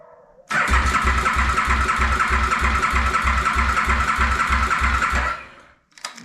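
A 2008 KTM Super Duke 990 motorcycle, in neutral, cranks on its starter for about five seconds: a loud, close whirring drone with steady rhythmic compression thumps that never catches, then falls silent.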